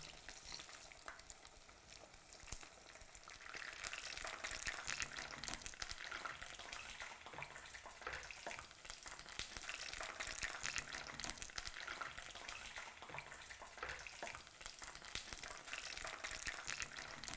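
Vegetable tempura fries in hot oil with a steady, dense sizzle and crackle that holds near and fairly even throughout, nobody speaking over it.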